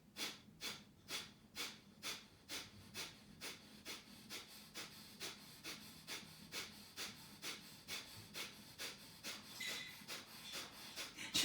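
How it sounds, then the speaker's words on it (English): Breath of fire yoga breathing: quick, even, forceful nasal exhalations in a steady rhythm of about two per second, close and alone for several seconds. "And then I'm going to go for 1 minute of the breath of fire."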